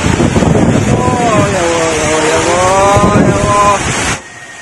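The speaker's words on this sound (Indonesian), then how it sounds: "Terlihat angin menerjang panggung dan tenda yang berada di lapangan hingga roboh." Strong tornado wind sweeps across an open field in Mojokerto, East Java, roaring loudly and steadily with rushing gusts and faint voices in the background, then dropping off sharply near the end.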